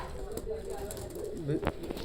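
Four male Oman Teddy pigeons coo softly in a low, rolling murmur, with a brief louder flutter near the end; a voice may be faintly present underneath.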